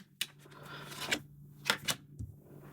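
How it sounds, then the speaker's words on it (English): Kipper fortune-telling cards being laid out on a table, giving a few soft, quick slaps and slides of card stock, close and quiet, with short gaps between the placements. "Laying only 2 cards for sake of example."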